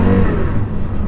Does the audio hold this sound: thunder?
no